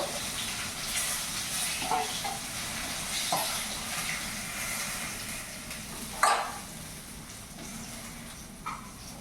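Katla fish heads fry in hot oil in a pan, a steady, close hiss broken by a few sharp pops and crackles, with no voices.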